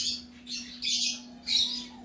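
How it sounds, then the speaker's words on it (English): Pet lovebirds, including newly hatched chicks, and finches chirp indoors in three short, bright bursts of tweeting, separated by brief pauses, with a steady low electrical hum beneath. "Sorry if you hear all my birdies. I have lovebirds that just had babies, and I have some finch."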